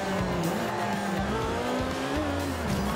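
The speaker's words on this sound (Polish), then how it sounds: "I uwaga, ostry zakręt, hamujemy." A Lotus 2-Eleven in the Forza Horizon 2 video game brakes into a sharp turn, its engine droning steadily while tires squeal and skid continuously across the short, loud stretch with no voice.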